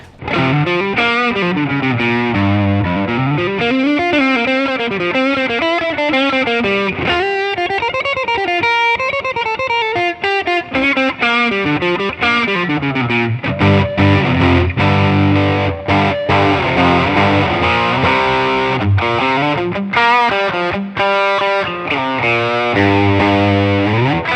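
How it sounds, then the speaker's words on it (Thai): A heavily overdriven electric guitar plays sliding, bending melodic lines and riffs, loud and close, continuous with no voices. "เราลองแบบโดนกับโอเวอร์ไดหน่อยๆไหม"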